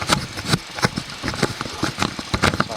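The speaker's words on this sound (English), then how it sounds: "So I'm idling and you can hear the engine running." A car engine idles steadily in a rough, continuous rumble with a faint rattling texture, recorded close up during a Big 3 electrical upgrade with cables being worked on, with no talk over it.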